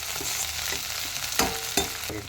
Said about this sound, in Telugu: కరివేపాకు వేసి వేపుకుందాము